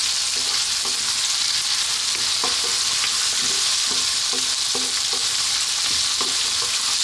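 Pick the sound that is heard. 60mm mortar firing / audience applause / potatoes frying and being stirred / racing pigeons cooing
potatoes frying and being stirred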